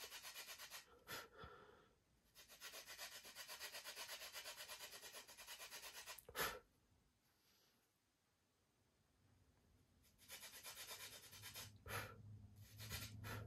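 Hand sanding of a Carl Goldberg Tiger 2 model airplane part, rhythmic scratchy rubbing strokes in close bursts separated by quiet pauses, faint and without talk.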